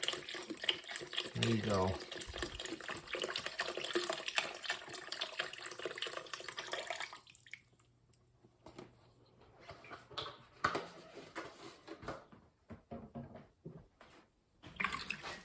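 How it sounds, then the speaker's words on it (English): Beef broth pours into a braising pot already holding carrots, onions, garlic, stout and tomato paste for stout-braised short ribs, a steady liquid splash for several seconds that trails off into quieter stirring, with brief talk over it. "you're going to want to add your beef broth. Be generous on this."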